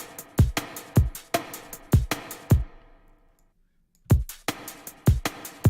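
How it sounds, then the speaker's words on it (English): A studio snare drum drenched in heavy reverb hits in a steady pattern, each crack followed by a washy tail, with a brief pause of silence before the hits resume. "I'm going to put a lot of reverb on the snare so it sounds like this"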